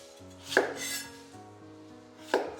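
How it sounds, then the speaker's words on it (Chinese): Knife chopping fresh lotus root on a cutting board, cutting thick slices into small dice, with two crisp, close chops about two seconds apart. "再将莲藕先给它切厚片，然后给它叠在一起，切成小丁"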